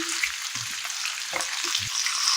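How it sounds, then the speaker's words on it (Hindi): Marinated lemon pepper chicken fries over a medium flame while a spoon stirs it, giving a loud, continuous hiss with a few clinks and scrapes of the spoon against the pan. Nobody speaks. "5 मिनट के लिए हम इसे मीडियम फ्लेम पर कुक करेंगे, साथ साथ चम्मच चलाते जाएंगे एहतियात के साथ।"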